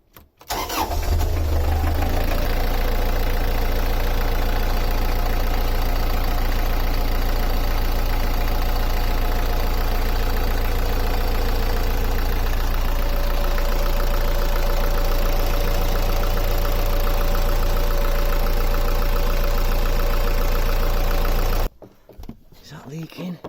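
Beta 38 marine diesel engine, just serviced after a blocked fuel filter, starts up and runs loud and steady for about twenty seconds with a heavy low throb, then cuts off abruptly.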